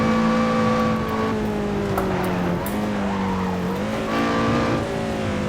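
A Lotus Exige 240R is driven hard on the Nordschleife, its engine droning loudly and steadily with pitch dips and rises through gear changes and faint tire noise, all close and continuous without talk.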